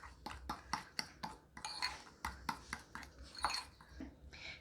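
A spoon stirring melted butter and powdered sugar into frosting in a bowl, a quiet series of rhythmic clinks and scrapes, close and faint, with no voices.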